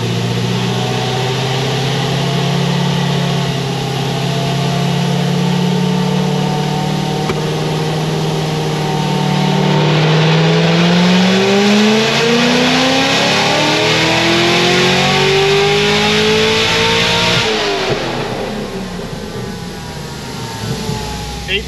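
A supercharged ZR1 V8 on a dyno roars under about 21 pounds of boost, its loud steady drone climbing in pitch through a long wide-open pull before dropping off near the end.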